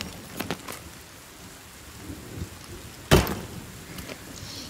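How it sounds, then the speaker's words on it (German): Thunderstorm with rain in The Forest VR, a steady rain hiss under occasional soft thumps, with one sharp, loud thunder crack near the end. "und Gewitter haben wir auch"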